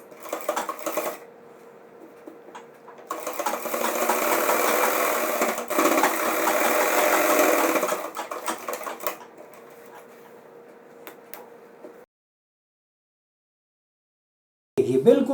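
A sewing machine stitching a belt onto pajamas, bursts of rapid mechanical whirring of varying length, one long run in the middle, then silence before a short restart.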